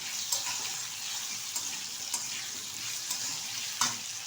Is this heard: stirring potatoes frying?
yes